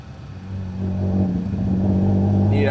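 A Fiat Dino Spider with a Ferrari-derived engine pulls away from low revs, the engine note rising steadily in pitch and loudness as it accelerates, heard close up from inside the car.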